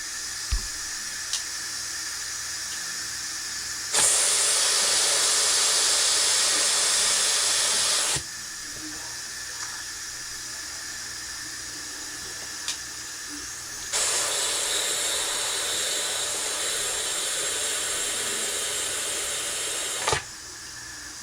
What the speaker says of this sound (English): We still gotta wait till all the steam is out.